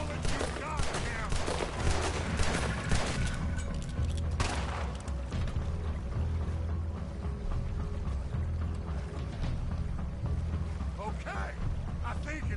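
Sustained gunfire from a Red Dead Redemption 2 shootout, dense overlapping shots rolling on throughout with occasional talk mixed in over a busy game soundscape.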